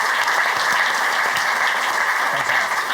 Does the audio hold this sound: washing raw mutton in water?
no